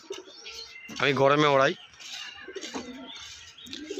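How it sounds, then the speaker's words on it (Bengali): Andhra pigeons and their young coo in a low, throaty burst at close range, between stretches of someone talking. "এগুলো সব আন্ধ্রা পায়রা এইসব পায়রার বাচ্চা"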